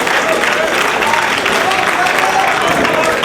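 A wrestling arena crowd cheers at a match featuring Bryan Danielson and Aries, a steady, loud roar of voices and applause that fills the whole stretch without a break.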